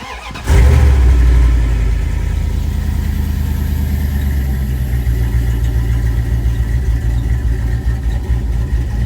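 A car engine cranks and catches with a sharp burst, then settles into a steady, loud idle rumble close by.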